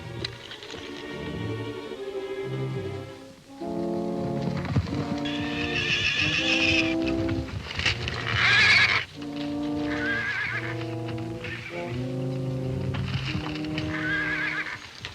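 A pinto stallion gives repeated loud, drawn-out neighs and whinnies, with clip-clopping hooves running beneath them throughout.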